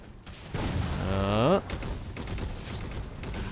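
A long-range turret fires in the shooter game Halo 4, a loud sustained burst with a rising whine that cuts off sharply, followed by lower rumbling battle noise and muffled game sounds.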